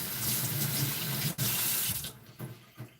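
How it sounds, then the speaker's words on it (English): Tap water runs steadily from a faucet into a sink as fresh ginger root is rinsed, a close, continuous splashing hiss that cuts off briefly and then trails into a few drips and splashes. "So here is the ginger I'm gonna wash."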